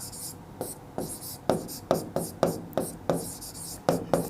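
Chalk or marker writing on a classroom board during a Class 10 statistics lesson, heard as a run of sharp tapping, scratching strokes in quick irregular succession, close and fairly clear with no voice over it.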